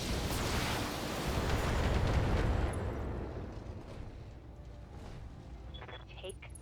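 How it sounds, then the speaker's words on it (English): A mech in the Battletech video game firing all its weapons at once, a heavy, dense burst of booming blasts that peaks and then decays into a rumbling tail with faint scattered pops. "Firing all weapons."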